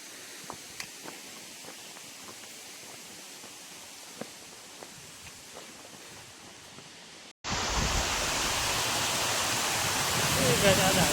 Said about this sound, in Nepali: झरना यस्तो छ है, तपाईँले अब देख्न सक्नुहुन्छ।